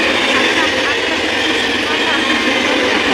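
A loud, continuous rumble and roar of a local train to Sealdah running close by, steady throughout.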